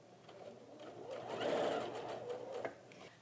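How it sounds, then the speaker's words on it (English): A sewing machine stitches a quarter-inch seam along the edge of a quilt binding in a quiet room. The needle makes a soft, rapid hum that rises in the middle and then tapers off, up close, with no talking. "So you're going to stitch to a 1/4 inch from the edge."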